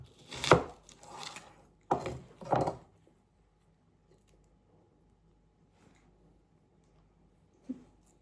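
A knife cuts a vegetable in half for carrot soup, a few dull thunks on a board close by, then near silence with a faint knock at the end.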